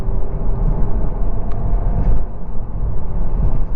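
Steady low rumble of a car engine and exhaust, loud and continuous, with no talking.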